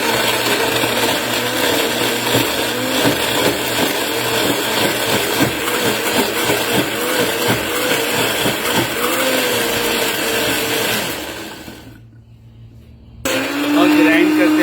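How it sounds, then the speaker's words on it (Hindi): Electric mixer-grinder jar whirring loudly as it blends fresh red chillies with salt into a chutney, a steady motor drone that cuts out briefly near the end and then restarts. "और ग्राइंड करते वक्त अगर ये अच्छी तरह ग्राइंड नहीं हो रहा है तो आप इस जग को थोड़ा सा टेढ़ा कीजिए"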